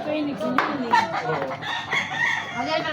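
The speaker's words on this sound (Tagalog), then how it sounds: "Daming mga manok po dito" Chickens, including fighting cocks, cluck and squawk close by on a farm while a rooster crows, overlapping bird calls filling a short, lively stretch.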